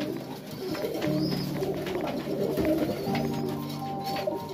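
Young Serbian Highflyer pigeons, reds and blues, coo in a loft, with overlapping low throaty calls rising and falling steadily throughout, close by and clear, with soft fluttering and shuffling in the background.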